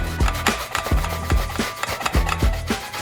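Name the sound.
finely grating food with a grater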